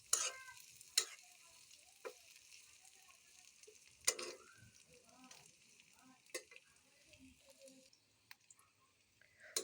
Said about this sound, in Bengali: আস্তে রসুনগুলো সুন্দর মতো ভেজে নেব এইভাবে লাল লাল করে।